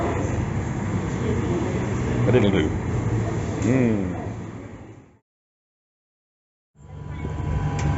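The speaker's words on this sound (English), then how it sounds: "We is on the train again." A steady low rumble fills a train carriage in Morocco while a voice talks over it, then the sound cuts out briefly before the rumble resumes.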